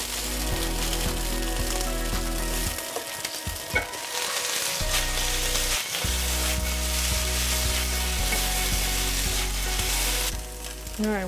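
Gnocchi fry and crackle in a hot pan with a continuous, rain-like sizzle. Intermittent thumps and scrapes are heard as pieces are turned over, and a steady low hum runs underneath.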